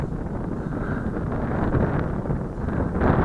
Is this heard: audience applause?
no